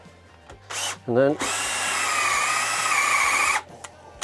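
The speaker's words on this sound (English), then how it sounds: "I've got 10mm dowels, so I've got a 10mm auger bit in there" A power drill with a 10mm auger bit bores into wood for dowels while repairing an old chair, whining steadily for a couple of seconds after a brief spin-up, close and loud, with a short spoken phrase just before.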